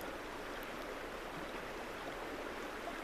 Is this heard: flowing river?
yes